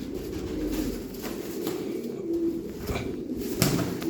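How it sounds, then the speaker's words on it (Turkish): Spotted pet pigeons coo softly and steadily in a low continuous murmur. A faint bird sound comes through now and then over quiet room noise. "bu benekli kuşlarımız da bir familyadır"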